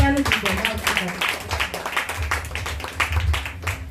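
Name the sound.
congregation applauding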